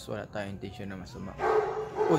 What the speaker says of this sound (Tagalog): Mukhang ipapalabas natin aso.